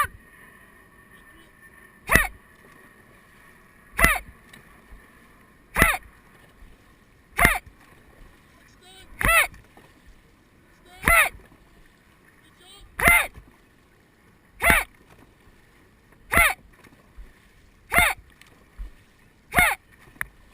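Dragon boat crew paddling at a dragon boat festival: sharp, evenly spaced paddle strokes roughly every two seconds, each a crisp splash-like hit, with a faint watery background between strokes.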